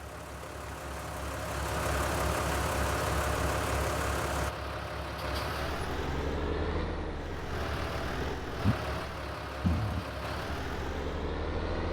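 A tractor engine runs steadily in Farming Simulator 19, a continuous low hum and rumble with a shift in tone partway through and a couple of brief knocks near the end.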